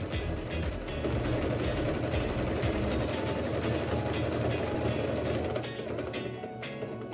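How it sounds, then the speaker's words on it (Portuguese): A Starlet 6660 sewing machine stitching an elastic seam from one end to the other, a loud continuous mechanical whirr with rapid needle chatter that eases off near the end. "Agora eu vou para a máquina e faço uma costura de uma extremidade à outra."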